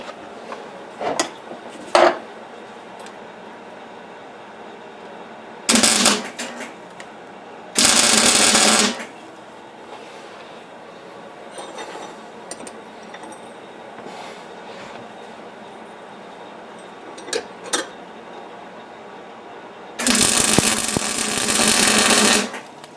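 Metal welding in a home workshop, heard as a few separate crackling, hissing bursts of a few seconds each, the longest near the end, with quiet clinks and handling noise in between.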